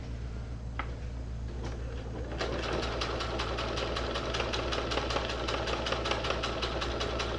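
A sewing machine stitches a fishing rod tube cover, a fast, even mechanical chatter that starts after a few hesitant clicks and runs steadily up close over a constant motor hum.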